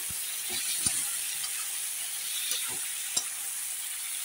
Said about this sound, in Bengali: হলুদ দিয়ে নেড়ে নিলাম